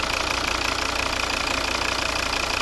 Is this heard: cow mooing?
no